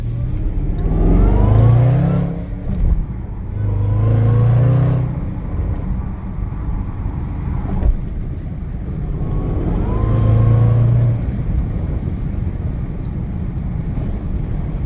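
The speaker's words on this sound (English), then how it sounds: "If you like the supercharger whine, it does make a difference for sure." Supercharged car with an airbox mod accelerating on an open road, engine rising in three surging pulls with a whining note, loud and close from inside the car, no talking.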